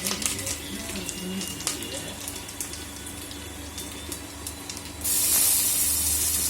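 Curry leaves hit hot oil with fennel seeds in a clay pot, giving a continuous crackling hiss with scattered pops that swells into a louder, brighter spray of sizzling near the end, with a voice speaking over it.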